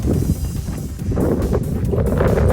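Strong gusts buffet the microphone at an E82 wind turbine park, a loud low rumbling roar that surges and dips throughout, with no voices.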